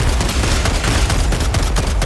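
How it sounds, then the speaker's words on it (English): Railgun fire in Helldivers 2 amid dense combat, loud rapid cracking blasts and bursts layered in a continuous chaotic barrage. "I fucking love the rail gun"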